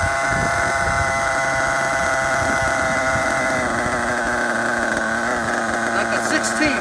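A Losi 8IGHT nitro RC car engine idles too high, a loud, steady, buzzing drone with a slight waver and no pauses throughout.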